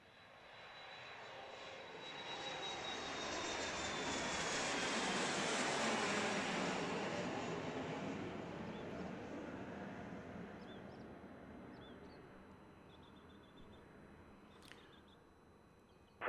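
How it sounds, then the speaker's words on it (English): A Boeing 737 MAX 8 airliner arriving at Dallas Love Field on a flight from Indianapolis, its loud jet engine roar swelling as it nears, peaking mid-pass, then slowly fading, with no talk. "what is coming in is Flight 1898 from Indianapolis, a MAX 8"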